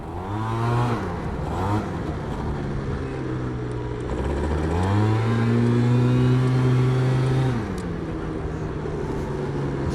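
A Yamaha BWS 100 scooter fitted with a Malossi 125cc kit and straight-cut gears revs hard nearby, its engine pitch climbing and falling through several loud, buzzy sweeps with no talking over it.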